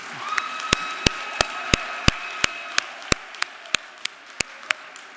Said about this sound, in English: Let's give a round of applause for Clarence